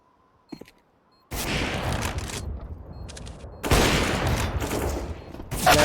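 Counter-Strike gunfire on the Nuke map, including USP pistols, comes in loud bursts of rapid shots. Two long volleys are separated by a brief lull, with no commentary over them.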